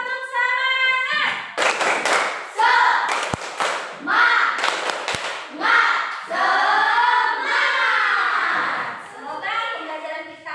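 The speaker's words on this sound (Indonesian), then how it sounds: "Coba dong, tepuk semangat." A class claps a quick patterned rhythm as a cheer, sharp bursts of claps broken by short pauses, with a voice talking or calling out between and over them.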